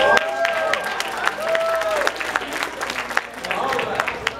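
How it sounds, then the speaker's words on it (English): Audience applause at an anime contest, steady clapping from a crowd with a few cheers, mixed with voices and some whistle-like tones throughout. "Let's give it one final round of applause."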